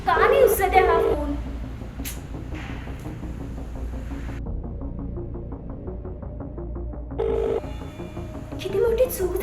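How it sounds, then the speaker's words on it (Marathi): A telephone ringing unanswered, a repeated electronic ring pattern with a steady throbbing tone in between, heard under speech and music in a short drama scene. "का नाही उचलत आहे हा फोन?"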